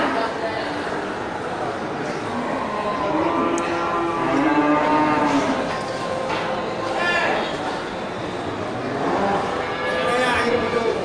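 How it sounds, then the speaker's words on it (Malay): Local cattle at an animal market give low, drawn-out moos over steady crowd chatter, with people talking nearby and a busy outdoor hubbub throughout. "Ini lembu lokal bang ya"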